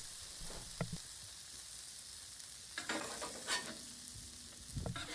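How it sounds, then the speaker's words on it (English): Spicy tomato sauce sizzles steadily on a flat top griddle, with a few scraping stirs of a utensil breaking in at intervals over the constant frying hiss. "Just keep moving it around on the flat top, on the flat rock, just to get those tomatoes to break down."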